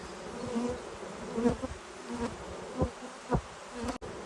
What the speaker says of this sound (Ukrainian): також якась бджола попадає всередину.